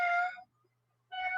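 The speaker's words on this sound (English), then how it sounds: "there's a cat in the background meowing" A cat meows twice in a quiet room, each call clear and tonal, separated by a short silence.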